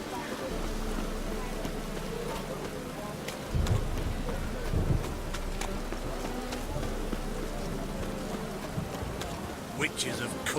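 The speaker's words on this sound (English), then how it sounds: "Witches have conjured rain" Steady rain in The Witcher 3 video game hisses throughout, with low thunder rumbles swelling around the middle and a few sharper cracks near the end.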